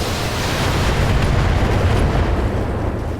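A weapon shot and explosion in a Battletech urban battle, a dense, sustained roaring blast with low rumble throughout.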